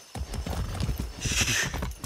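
A horse in the video game Far Cry 6 clops its hooves in a quick, close rhythm, then lets out a bright, loud neigh in the middle.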